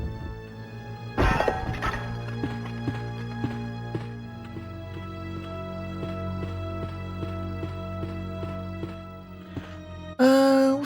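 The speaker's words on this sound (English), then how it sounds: "let's push this statue off of this ledge" A statue pushed off a ledge in a Sega Saturn video game lands with a sudden heavy thud and crash, a sharp impact near the start and another loud burst near the end, over steady background game music.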